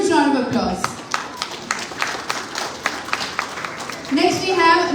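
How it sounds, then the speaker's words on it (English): An audience at a major book festival gives a round of applause, a dense, steady clatter of many hands lasting several seconds, bracketed by someone speaking over a microphone at the start and end. "Let's give him a huge round of applause"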